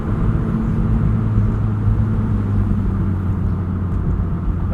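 A 2009 Mazda MX-5 Miata NC2 with a 5-speed manual cruises along, its engine a steady, loud low hum and rumble heard from inside the cabin, with no talking.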